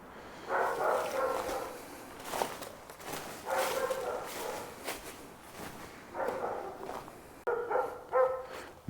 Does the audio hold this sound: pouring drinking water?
no